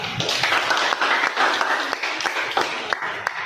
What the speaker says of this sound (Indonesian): Mari kita beri aplaus buat kita.